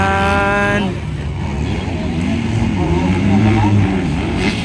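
250cc motocross motorcycles race in an expert-class final, with a bike engine revving loudly up close before giving way to a continuous roar of engines in the background, under an excited commentator's voice.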